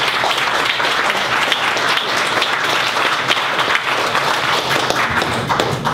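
An audience at the Fannie Sellins Memorial Commemoration applauds author Ryan, a loud, sustained, even wash of many clapping hands with no pause.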